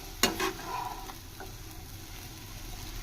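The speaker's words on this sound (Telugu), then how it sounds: "ఈ విధంగా కలుపుకుంటా మగ్గించుకోవాలా" Gongura leaves cooking in a pan are stirred, a brief scrape and clatter of the spoon followed by a steady soft sizzle and frying hiss, close and without talk.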